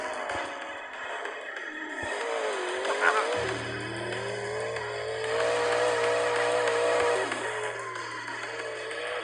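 In a video game, a car engine drones continuously and revs up and down as the player accelerates, with a low mechanical hum underneath that gets stronger partway through.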